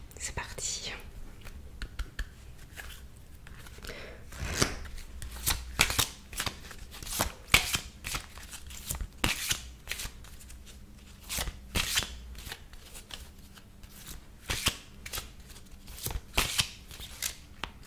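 Tarot cards are shuffled close to the microphone in crisp, repeated riffling bursts with brief pauses between them, under soft whispering.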